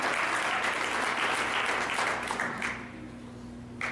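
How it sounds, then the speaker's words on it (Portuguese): A church congregation applauds, dense steady clapping from a crowd that fades toward the end, with a faint hum underneath. "Aplauda o Senhor bem forte por isso."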